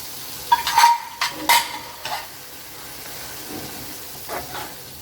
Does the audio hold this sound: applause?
no